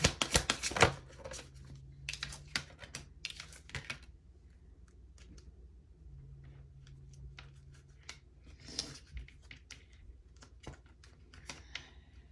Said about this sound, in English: Just shuffling around some of these cards